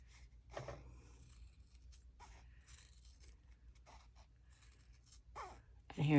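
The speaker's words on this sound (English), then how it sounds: "I'm going to glide right into the scissors." Scissors snip and glide through material for a TV remote case in short intermittent cuts, soft and close, with a louder crunch at the end and a voice speaking in between.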